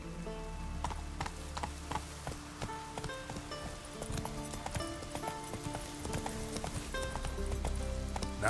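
Roach the horse gallops in The Witcher 3, with rapid rhythmic hoofbeats thudding steadily in the foreground for several seconds, a snort mixed in, over a soft wash of rain.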